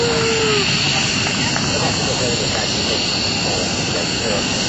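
A C-130J-30 Hercules of the Rhode Island Air National Guard flies past at an airshow, its steady engine drone filling the whole stretch at fairly close range, loud and continuous.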